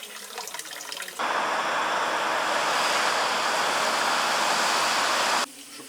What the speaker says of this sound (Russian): Сливаем антифриз.